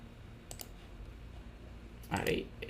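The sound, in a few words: mouse clicking to reset a policy in Cisco ISE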